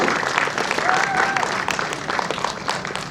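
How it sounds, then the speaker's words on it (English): Steady audience applause at a film festival masterclass (IFFI 54) fills the whole stretch, dense clapping from a crowd with a faint voice over it. "And you can keep the applause going."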